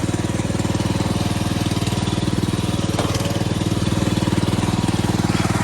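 A cheap secondhand lawn mower's small engine runs steadily close by, a loud, even, buzzing drone with a rapid regular pulse and no voices.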